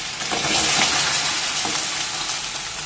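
Taro, potato and radish frying in a pan, with a loud continuous sizzle and a few soft scrapes as the pieces are stirred, no voices.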